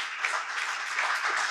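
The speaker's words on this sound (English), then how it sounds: "Please give him a big round of applause." Crowd applause at an onstage event honoring a blind chess player and para swimmer, an even, brief burst of many people clapping at moderate distance.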